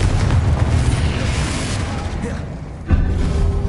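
A Confringo blasting spell explosion in Hogwarts Legacy, a loud, rumbling boom that decays, then a second burst hits near the end, with no talking over it.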